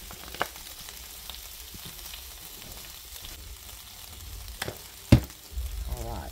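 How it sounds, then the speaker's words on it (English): Ham fries in a frying pan, a faint steady sizzle running throughout with a few brief clinks and utensil knocks, quiet and close. "I'm going to put the ham in the frying pan"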